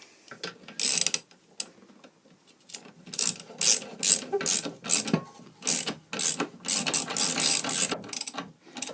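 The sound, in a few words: ratchet winding a bolt on a Snapper lawnmower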